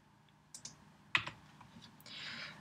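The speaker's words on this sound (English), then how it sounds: "on the delete key on your keyboard" A couple of sharp, quiet clicks from a computer keyboard key being pressed, followed by a soft rustle, close by in a quiet room.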